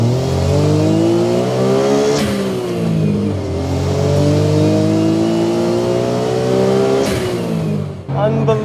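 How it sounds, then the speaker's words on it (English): A 1992 Mazda Autozam AZ-1 kei car engine revs hard and loud, its harmonic note climbing and falling through repeated gear-like sweeps, with brief breaks near two and seven seconds and a final drop at the end. "I did not expect a Kei car to sound like this."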